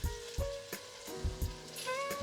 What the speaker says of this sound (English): Stir the sauce in with the meat a little bit.